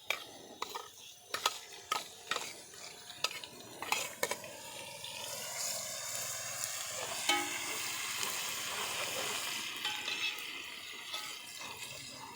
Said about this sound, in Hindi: अदरक लहसुन को 1 मिनट तक के लिए अच्छी तरह पकाना है ताकि इसकी स्मेल ख़त्म हो जाए